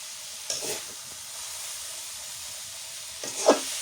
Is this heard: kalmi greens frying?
yes